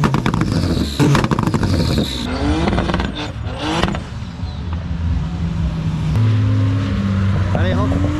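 A car engine revs and pulls away, its rising harmonic drone loud and close, with excited voices talking over it and a second steady engine note near the end.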